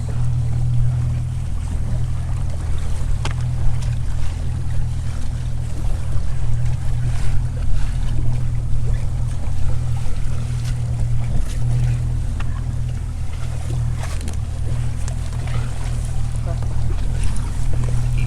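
A small dinghy motors along on open water beside a departing sailboat, with a steady low engine drone and wind rumble filling the whole stretch.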